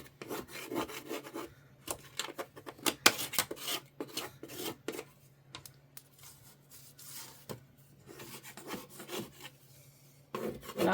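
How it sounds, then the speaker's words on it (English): Someone scrapes old material off a bathroom wall area near a replaced vanity, making irregular rasping strokes that come in bursts and pauses, close and moderately quiet. "But I'll finish scraping all of this off"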